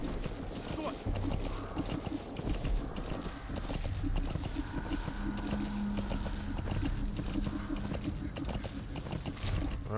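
Horse hooves clip-clop steadily through a rhythmic run in Metal Gear Solid 5: The Phantom Pain, mixed with game music and ambient noise under a talking voice.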